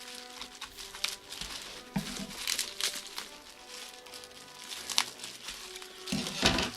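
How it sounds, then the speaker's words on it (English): Soft crinkling and rustling of bubble wrap being handled up close during an unboxing, with occasional crackles and light taps, no talking. "It's not fun cutting through bubble wrap."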